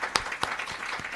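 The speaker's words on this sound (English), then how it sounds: "I request a big round of applause to Arunji" Audience at a financial reporting workshop in Pune claps in a brief burst of applause, a few sharper claps standing out over a soft spread of scattered hand claps.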